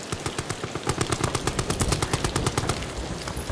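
Rapid automatic gunfire from the video game Amnesia: The Bunker rattles out in an even, continuous stream of loud, closely spaced shots that carries for a few seconds.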